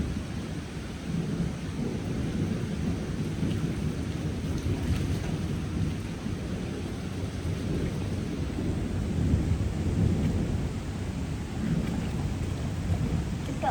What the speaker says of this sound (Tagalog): that lightning is far away